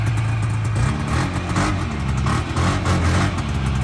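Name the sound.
engine of home-built jet-ski snowmobile running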